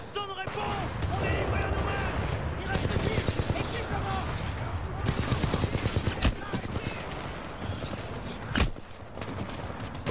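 Grenades bursting in the shooter Titanfall 2, mixed into a busy stretch of rattling gunfire and explosions, with someone talking over the clatter throughout.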